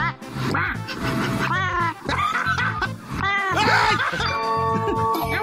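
A cat in a bathtub lets out a string of nasal, duck-like quacking calls, loud and close, mixed with laughter and chatter from people nearby.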